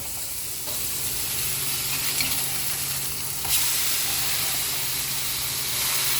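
Bacon frying in a pan while burgers are made, a loud, close, steady sizzle and hiss that keeps up throughout with a few brief spits.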